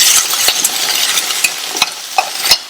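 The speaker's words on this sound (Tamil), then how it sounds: "இந்த வெங்காயம் நல்லா வதங்கட்டும்." Large chunks of onion sauté in hot oil for a Tamil kulambu, a steady sizzle broken by a few scraping clicks of a spoon stirring the pan.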